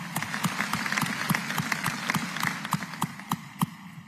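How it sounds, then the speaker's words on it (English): Audience at the Orange County State of the County address gives a round of applause in a large convention center hall, sharp individual claps standing out over a steady, moderately distant wash of clapping. "let's give them a huge round of applause and say thank you for their wonderful support"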